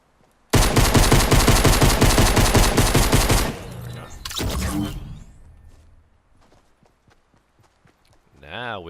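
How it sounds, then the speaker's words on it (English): A submachine gun in a PUBG/Fortnite-style video game fires one loud, rapid, sustained burst of about three seconds, then a shorter burst follows. The firing fades into quieter game ambience before a voice briefly speaks at the end. "should I use this pistol or use the submachine gun?"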